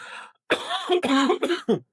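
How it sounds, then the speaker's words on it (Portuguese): A series of loud, close coughs, several harsh bursts in quick succession, with no speech. "Gente, preciso tossir."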